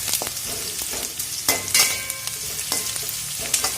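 Onions fry and sizzle in a pan for tomato rice while a spoon stirs them, with a constant hiss and several sharp scraping strokes scattered throughout at close range.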